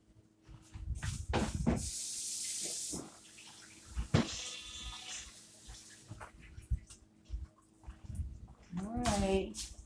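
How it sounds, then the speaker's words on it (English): A kitchen tap runs for a couple of seconds while a taster spoon is rinsed under it, followed by clinks, handling noises and a short voice nearby. "I'm gonna go rinse off my taster spoon."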